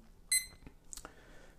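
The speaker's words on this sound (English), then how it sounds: "I use this super cheap digital kitchen timer" Cheap digital kitchen timer beeping in a bathroom darkroom setup, one short bright electronic beep followed by faint clicks and handling noises, quiet and close.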